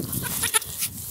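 Show goats at a livestock farm in central South Dakota, with a short bleat in the middle of a one-second stretch of faint background noise.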